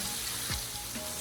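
Chopped onions sweat in a hot frying pan for ackee and saltfish, giving a steady, close sizzle that runs unbroken from start to finish.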